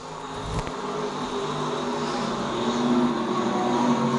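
Stock cars and modifieds racing around a short oval track, a steady blended engine roar from the pack heard at a distance, continuous and moderately loud with no talk.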